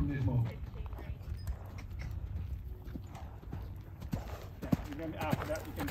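A dressage horse canters during a breeding presentation at a ranch, its hoofbeats thudding in a rolling rhythm at moderate distance while someone talks over them.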